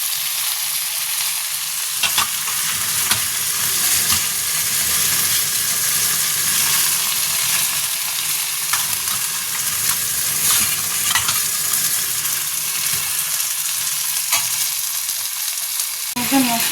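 Mutton and potatoes sizzling in a pan while being stirred, a constant close frying hiss broken by occasional scrapes and clinks of the spoon, with no talk.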